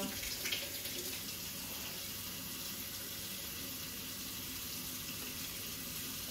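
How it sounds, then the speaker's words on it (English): Tap water running steadily into a sink during handwashing, a continuous close hiss and splash with no breaks and no talking. "first of all, wash your hands"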